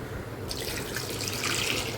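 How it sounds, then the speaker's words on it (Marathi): Water pours steadily into a clay pot, a continuous rushing splash that grows brighter partway through, close and fairly loud. "आता याच्यामध्ये पाणी टाकून घेऊ आपण"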